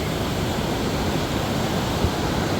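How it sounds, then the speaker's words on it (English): A loud glacial river, the South Puyallup, roars steadily beneath a footbridge, a dense and unbroken rush of water that fills the whole clip at close range. "got another footbridge in a loud river. So this has got to be the South Puyallup River. Yeah, that's a glacial river."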